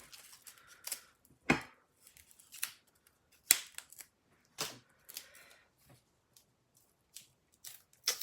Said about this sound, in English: I should have cut with my little scissors.